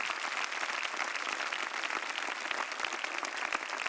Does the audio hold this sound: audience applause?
yes